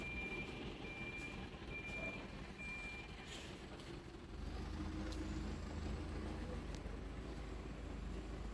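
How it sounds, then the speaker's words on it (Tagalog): A truck reverses near a park in Florence, Italy, giving a string of four or five evenly spaced backup beeps, after which its engine rumbles louder and lower beneath faint surrounding noise. "Ang ingay ng ano ng truck."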